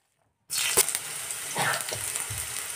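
Chopped onion and tomatoes sizzle in a hot pan, a steady broadband crackle that starts abruptly and holds, with a couple of brief stirring scrapes partway through; no voices.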